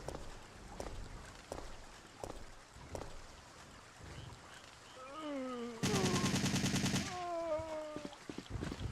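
Assault rifle gunfire in Resident Evil 3: Nemesis, with scattered single shots and footsteps leading into a dense, loud sustained burst of automatic fire, then tonal game sounds afterward.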